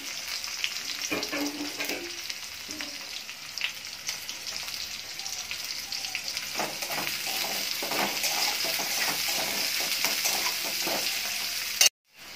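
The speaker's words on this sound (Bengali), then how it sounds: "এবারে আমি ওই তেলের মধ্যে দিয়ে দেবো পেঁয়াজ কুচি, দিয়ে পেঁয়াজগুলো ভালো করে ভেজে নেব।" Chopped onions sizzle in hot oil, a dense, continuous frying hiss with scraping and stirring on top; the sound cuts off abruptly near the end.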